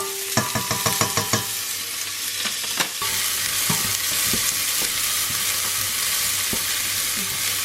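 A whole chili pepper frying in hot oil in a home kitchen, a continuous close sizzle with sharp clicks and clatters of utensils early on, then a steadier hiss of frying oil.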